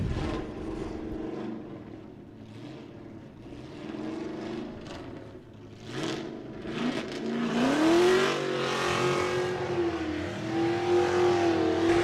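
At an LS Fest West drift event, a drift car spins celebratory donuts, its engine droning and revving with a rising, wavering whine that grows louder and nearer toward the end.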